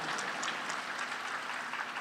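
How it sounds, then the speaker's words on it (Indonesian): Congregation applauding in a church during a Christmas sermon, a steady dense wash of many hands clapping that holds evenly throughout without any voices on top. "Ayo kalau tepuk tangan aja lah ya."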